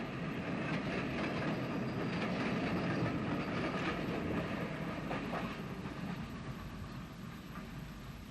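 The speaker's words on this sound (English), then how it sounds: "the 543 All Stations to Lisburn, leaves Great Victoria Street on the 1st of September 1964, hauled by S-Class number 63" An Ulster steam train hauled by S-Class locomotive number 63, Slieve na Mon, pulls out of Great Victoria Street station in 1964, a continuous rumbling rattle of carriages with faint rhythmic wheel clatter that slowly fades.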